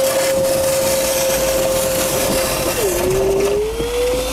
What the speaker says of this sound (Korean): 제가 여기서 청소기 모드로 켜서